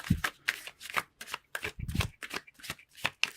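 Tarot cards are shuffled in quick, soft riffles and slides, close and fairly quiet, in a short burst with no talking.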